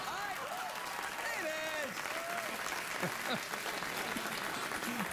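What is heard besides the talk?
studio audience applause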